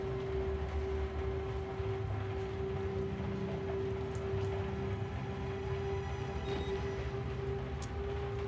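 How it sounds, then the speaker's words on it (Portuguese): Steady rain falls inside the horror video game Outlast, a dense continuous hiss with a low droning hum beneath, unbroken and fairly even throughout. "Olha a chuva, que louco."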